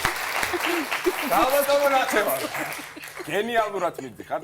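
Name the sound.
studio audience applause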